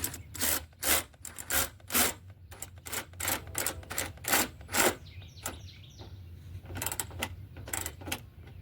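A 10 mm socket ratchets on a Ford Focus headlight bolt, giving a close run of quick rhythmic clicking bursts, then a short pause and a few more clicks toward the end.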